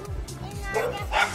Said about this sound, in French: C'est qui jappe?